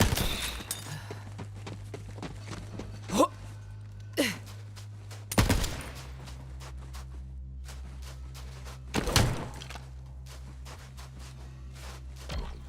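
Gunfire in Borderlands 3 blasts at a weapons shed lock, with several sharp separate shots spread across a quiet stretch, some in quick pairs, along with faint footsteps and movement between them.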